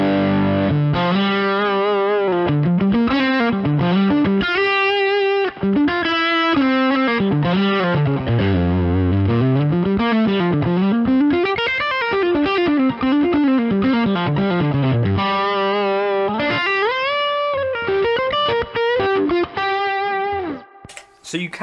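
Electric guitar runs through a Two-Rock Classic Reverb Signature amp with the FET boost engaged. Sustained, heavily driven notes and bending lead lines play continuously and loud, ending in a brief choppy cutoff.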